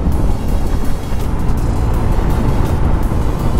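Honda ADV150 150cc scooter engine under throttle during a city ride, a loud steady drone mixed with heavy wind rush and road noise, heard close up.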